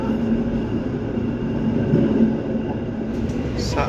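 Steady rumbling drone inside a moving Parahyangan executive train with stainless steel New Generation carriages, running from Jakarta to Bandung, a constant low roar of wheels and rails with a brief higher hiss near the end.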